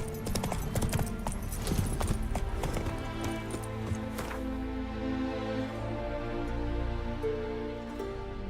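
The horse Roach gallops in The Witcher 3 with loud, rhythmic clip-clop hoofbeats that thin out halfway through into a low rumbling drone.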